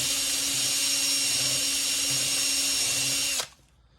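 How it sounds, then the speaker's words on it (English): A power drill spins steadily and loudly while a long bent gouge is sharpened against a grinding wheel, a continuous high whine that cuts off abruptly near the end, leaving faint room noise. "the drill is spinning away from the edge, so it's coming up and away from the edge"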